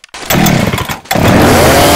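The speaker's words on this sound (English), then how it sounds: "Chainsaw here." A chainsaw in Left 4 Dead 2 roars loud and close, revving hard, dipping briefly near the middle, then surging back to a sustained full-throttle whine.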